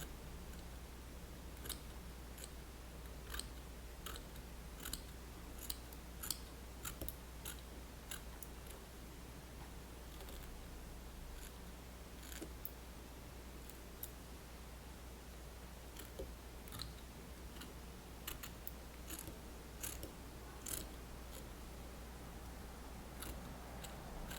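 Small scissors snip fly-tying material while a fly's taper and head are trimmed, giving quiet, crisp clicks in irregular bursts over a low steady hum.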